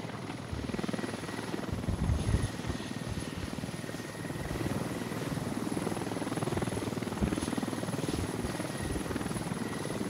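A helicopter in the video game Squad, a loud continuous rotor drone and engine whine filling the scene close by and steady throughout.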